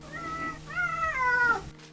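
King, a male house cat, lets out two or three drawn-out, wavering meows in quick succession, close and clear, each one climbing then sliding down before stopping abruptly.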